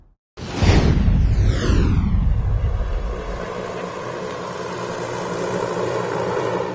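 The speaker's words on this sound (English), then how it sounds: "that is a Zeppelin" A Zeppelin NT airship passes close by in California, its engine drone sweeping downward in pitch like a fly-by whoosh, then settling into a steady, fairly loud hum.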